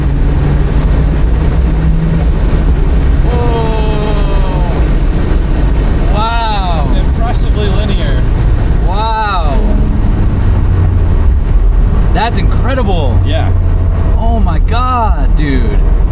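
A Mazda Miata NC fitted with a Flyin' Miata turbo kit drives along under loud, constant wind and road roar, its engine rising and falling through repeated revving sweeps, heard from inside the car while people talk.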